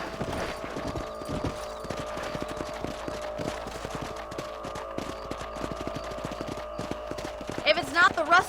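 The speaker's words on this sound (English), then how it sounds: "Let's get back on the horses and see what else is going on." Horse hooves clip-clopping in the video game Red Dead Redemption, a steady close rhythmic trot throughout under a faint droning tone, with someone talking briefly near the end.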